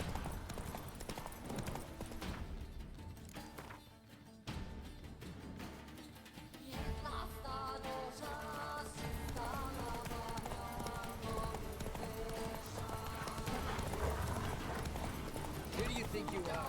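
A horse gallops in The Witcher 3, rhythmic hoofbeats pounding steadily amid game music, with a voice speaking over the clip-clop.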